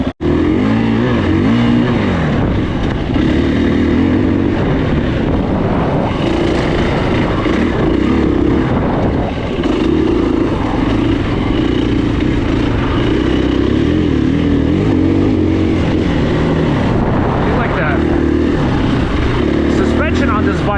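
A KTM 350 enduro dirt bike engine drones loudly and steadily throughout, with rising and falling revs as the rider works the throttle, close to the microphone.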